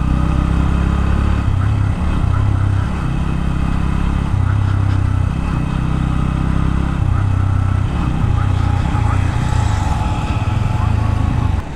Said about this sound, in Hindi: बाइक जो लैग कर रहा है गाइस, पावर ड्रॉप कर रहा है।